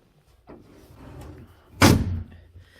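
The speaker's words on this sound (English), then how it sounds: "Nice stainless door. You heard it latch tight there." A stainless steel door on a bay boat swings and shuts with a sharp, loud latching clunk, preceded by softer handling sounds.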